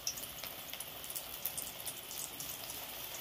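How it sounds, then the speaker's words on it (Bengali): Cabbage pakoras dropped one by one into hot frying oil, giving a steady, fine crackling sizzle with small popping bubbles throughout, close and moderately quiet, with no voices. "এবার পকোড়াগুলো আমি একে একে তেলেতে দিয়ে দেব"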